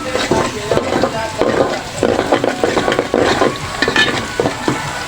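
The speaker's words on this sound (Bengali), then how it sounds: "পেঁয়াজ ভাজা হচ্ছে গরম মশলা দিয়ে দিচ্ছি অলরেডি" Onions fry with garam masala in a pan for khichuri, giving a loud, steady sizzle close up. A spatula stirs and scrapes through it in busy, rhythmic strokes.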